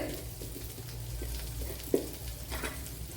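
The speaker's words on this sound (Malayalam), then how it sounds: "ഞാനിപ്പോൾ ശകലം ബട്ടർ ഇട്ട് കൊടുക്കുന്നുണ്ട്" Butter sizzling in a pan for Kerala-style quail egg roast, a steady close crackle and hiss with a few small pops and stirring clinks, no talk.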